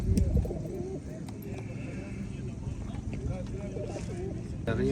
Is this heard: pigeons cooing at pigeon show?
yes